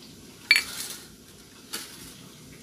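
A tablespoon of sugar going into water for a soy sauce mixture, heard as two separate metallic clinks of a spoon against a bowl or glass, the first sharper, with quiet room tone in between.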